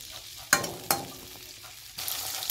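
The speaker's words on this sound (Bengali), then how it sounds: "বরবটিগুলোকে নেড়ে চেড়ে ভেজে নেব, হালকা টু লো ফ্লেমে ভাজলেই হবে।" Long beans are stirred in a frying pan over low to medium flame, giving a soft continuous sizzle broken by a few sharp scraping clatters of the spatula.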